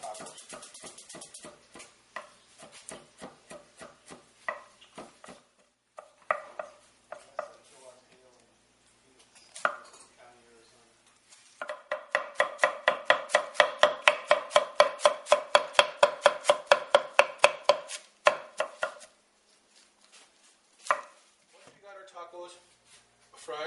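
Cabbage is chopped finely with a knife on a cutting board as a taco topping, with quick rhythmic knocks in bursts, including a long rapid run in the middle, while a person talks.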